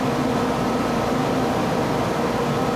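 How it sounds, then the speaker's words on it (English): A blast freezer in an ice cream store runs with a steady, even mechanical hum and broadband whoosh, loud and unchanging, with no other sounds over it. "we go to our blast freezer, which is plugging away here at"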